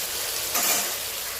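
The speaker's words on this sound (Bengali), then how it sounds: "এখন হচ্ছে যে ফ্রাইড রাইসের যে সবজিগুলো ভাজা চলছে" Vegetables for fried rice frying in a pan, a steady broadband sizzle with a brief louder swell midway, no voices.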